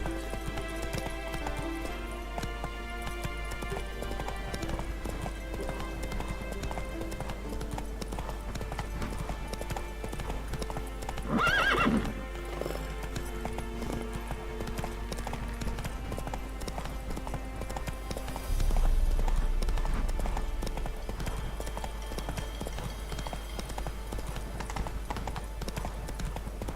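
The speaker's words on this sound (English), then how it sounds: "Whoa there, Roach. Come on" In The Witcher 3 video game, a horse's hooves clip-clop in a steady gallop rhythm across the whole stretch, with a couple of brief neighs or snorts rising above the hoofbeats and background game music tones.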